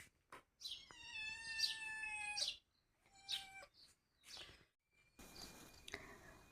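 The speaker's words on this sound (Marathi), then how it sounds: "मांजरांना भूक लागलेली," Hungry cats meow repeatedly up close, a series of drawn-out, rising cries from more than one animal with brief pauses between them, heard alone without talk.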